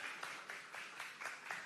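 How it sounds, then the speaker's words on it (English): Applause rises from a conference audience for a keynote speaker at a crypto wallet event in Bangkok, a quiet, steady patter of clapping with soft rhythmic swells throughout. "Round of applause for Nina, please."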